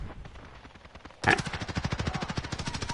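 Sustained automatic gunfire from a Call of Duty match bursts in suddenly after a quiet stretch, a loud rapid rattle of evenly spaced shots that continues steadily to the end.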